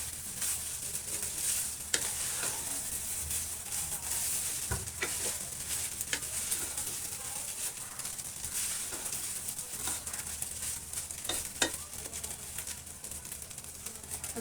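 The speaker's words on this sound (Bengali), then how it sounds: "আমার ফ্রাইড রাইসটা হয়ে গেছে, আর কয়েক সেকেন্ড ভেজে নেব।" Chicken fried rice sizzles steadily in a hot pan while a utensil stirs and scrapes it, with sharp clacks against the metal scattered through a continuous frying hiss.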